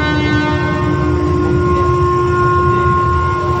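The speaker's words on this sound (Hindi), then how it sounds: "देखिए अपनी गाड़ी धीरे धीरे स्पीड पकड़ रही है इस समय।" A train slowly picks up speed, giving a loud, steady rumble of rolling wheels with a sustained horn-like tone running through it, close and continuous, with no talk.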